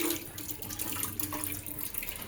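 Tap water runs steadily into a sink to be heated for coffee, a continuous close splashing rush lasting the whole short moment with no voices.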